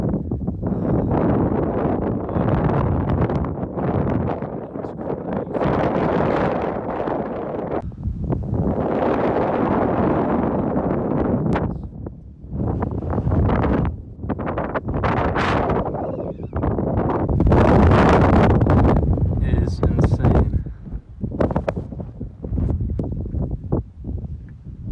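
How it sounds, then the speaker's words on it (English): Strong wind roars and buffets the microphone almost nonstop on a desert hike to Delicate Arch, with loud broadband gusts that rise and ease in waves and only brief lulls. "The wind is pretty crazy."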